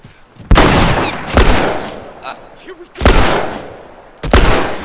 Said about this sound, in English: I'll shoot you with my revolver, boy!